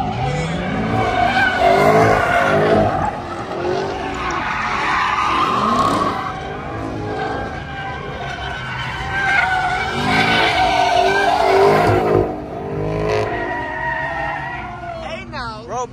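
At a hectic street takeover, a Dodge Scat Pack slides with screeching, skidding tires and a revving engine, the squeal rising and falling in waves while spectators talk and shout over it.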